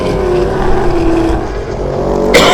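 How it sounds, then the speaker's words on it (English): An Audi race car at a Muscle Car Masters event rolls down pit lane, a steady engine drone with a faint rising tone in the background, ending in a sudden loud burst of noise. "You hear in the background the Audi just coming down pit lane of Jack Perkins"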